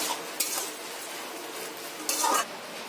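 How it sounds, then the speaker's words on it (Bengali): A spoon scrapes and stirs a banana stem dish in a pan with a little ghee, two brief clattering strokes over a soft steady sizzle, close and fairly quiet. "ঘি দিয়ে ভালো করে নেড়ে চেড়ে নামিয়ে নিতে হবে"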